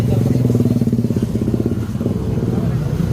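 A motorcycle engine idles loudly and close by at a busy cockfighting pit, its rapid pulsing putter steady and unbroken while people talk over it.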